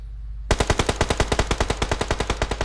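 Sustained machine gun fire in a video game, heard as a rapid, evenly spaced burst of about twenty loud shots. It starts abruptly and continues to the end with no voices.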